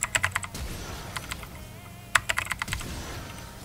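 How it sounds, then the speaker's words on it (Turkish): Computer keyboard keys tapped in quick sequences for a Lee Sin combo in a League of Legends–style fighting game: two bursts of three or four sharp, close clicks, with quiet hum between them and no speech. "Bak, sıralamayı dinle tuş sesinden."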